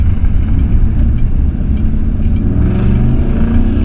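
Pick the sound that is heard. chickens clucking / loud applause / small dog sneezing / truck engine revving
truck engine revving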